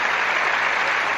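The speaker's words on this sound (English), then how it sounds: "A big cheer goes up for Chrissy" Crowd cheering and applauding at a 1971 US Open ladies' singles tennis match, a steady dense wash of clapping throughout the short moment.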